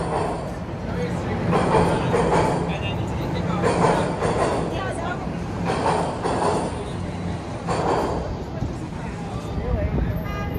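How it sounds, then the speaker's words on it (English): A subway train rumbles and rattles steadily underground beneath Yonge Street in downtown Toronto, with rhythmic clacking and occasional metallic squeals, continuous and fairly loud throughout. "You can hear the subway."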